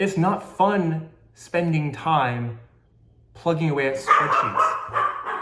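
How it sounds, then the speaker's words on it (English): A dog barks at birds outside in short bursts, partly masked by a person speaking steadily nearby. "That's my dog barking because there's birds outside."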